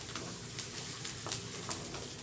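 Onions and garlic sauté in a pan while making a home-style beans poriyal, giving a faint steady sizzle with a few soft stirring scrapes and clicks over about two seconds.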